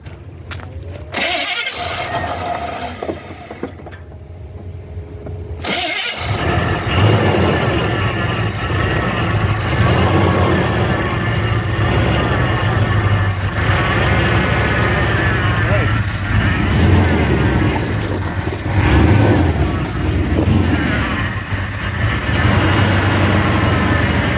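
Old Chevrolet K20 truck that sat in the woods for over 10 years, fed from a makeshift gas can: the starter cranks in short bursts, then the engine catches and runs roughly at a steady idle while people talk nearby.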